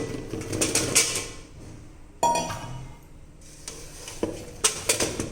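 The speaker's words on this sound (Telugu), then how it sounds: "ఇప్పుడు ఇదంతా మొత్తం కలిపేసుకోవాలన్నమాట అండి" Mango pickle pieces are being mixed with moong dal powder in a vessel. Bursts of scraping and clinking stirring come in uneven clusters, close by, with quieter gaps between them and no talking.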